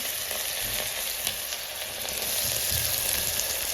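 Onions and spices frying in oil for bagara rice, a steady close sizzle and crackle that holds evenly throughout with no talking.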